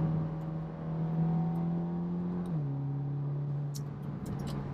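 Volkswagen Golf R with a new downpipe and crank pulley, its engine droning steadily as it accelerates, then dropping pitch as it shifts into fourth gear, heard from inside the car.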